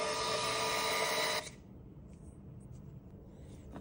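A 9printer 80B thermal label printer feeds and prints 80mm paper with a steady, loud whirring buzz that stops abruptly after about a second and a half, leaving quiet room tone.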